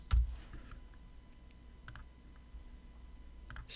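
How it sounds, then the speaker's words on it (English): Mouse clicks while inserting merge fields in Microsoft Word, a few sparse, close, dry taps spread across a quiet room with a low hum. "So we click here under Insert Field"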